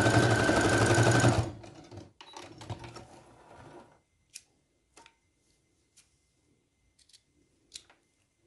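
A sewing machine stitches fabric for bloomer-style shorts in a fast, loud continuous whir for about a second and a half, then slows into short bursts before stopping, followed by a few isolated clicks and taps in near silence.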